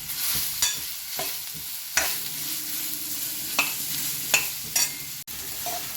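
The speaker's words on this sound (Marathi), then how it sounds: "मसाल्यामध्ये 2 मिनिट गिलके छान परतून घ्यायचे." Ridge gourd being sautéed in masala in a pan gives a steady sizzle, with repeated spatula stirs and scrapes scattered through it, near and fairly loud, with no voices.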